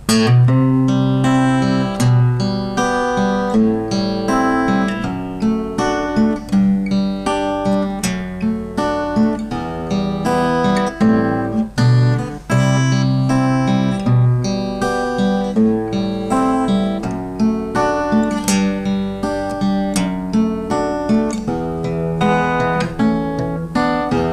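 An acoustic guitar plays a continuous melodic passage with plucked notes and strummed chords at a steady tempo, clear and close.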